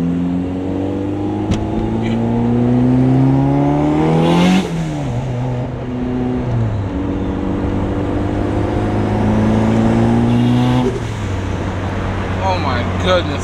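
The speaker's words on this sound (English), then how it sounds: "Goodness, car sounds so good. It's like one of the best sounding cars I ever heard" A turbocharged car engine revs hard and climbs through the gears, with a sharp drop and roar as it shifts, loud and close throughout.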